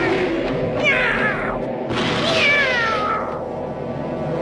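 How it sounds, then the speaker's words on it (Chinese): A cartoon Smurf character voices cat meows, two drawn-out, wavering mews in close succession, loud and clear over a faint background. "喵喵。"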